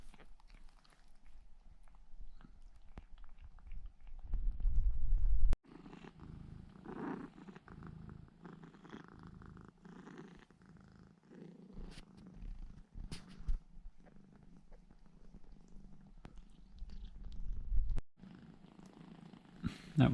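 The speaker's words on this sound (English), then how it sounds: "Dottie hardly stopped purring all night long" Dottie, a mother cat with three newborn tabby kittens, purrs softly and steadily nearby, with faint shuffling and rustling, a few louder thumps and brief handling bumps.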